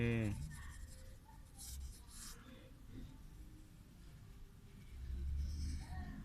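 Crayon or pencil scratching across paper while colouring in a drawing of a krathong, a soft, steady rubbing close by with quiet sounds of a person in the background.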